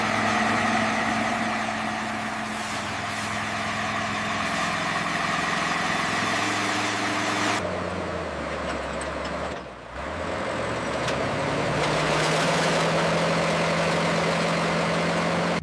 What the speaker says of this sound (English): Watch as the 55-ton prototype halts in its own length.